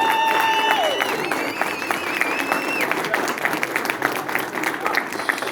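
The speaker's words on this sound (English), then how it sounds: "one more round of applause. Big round of applause." An audience at a sailing awards event claps steadily in a full round of applause, with a few voices and musical tones mixed in underneath.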